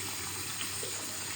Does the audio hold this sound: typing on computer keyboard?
no